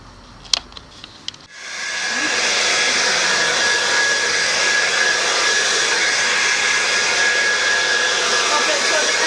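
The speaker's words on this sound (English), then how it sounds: "So the next thing I'm going to do is to blow dry." A hair dryer blow-drying short natural hair with bob box braids switches on after a few soft clicks, then blows with a steady, loud, close whoosh for the rest of the clip.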